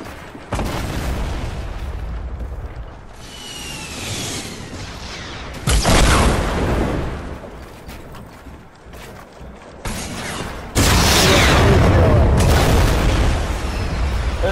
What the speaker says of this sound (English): There's a dude with a guided missile.